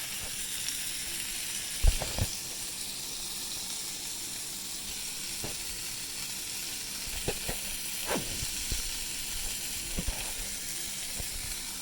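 Burger patties sizzle on a grill with a steady, moderately loud hiss, punctuated by a few sharp spatula knocks and scrapes as they are flipped and pressed.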